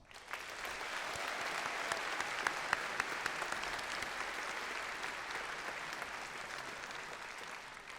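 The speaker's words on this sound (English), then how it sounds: "let's give those students from the Studio Art Master of Fine Arts program and the Miller Master of Architecture program a round of applause" Graduation ceremony audience applauding art and architecture master's graduates, a long even round of clapping from a large crowd that holds steady throughout, fairly distant.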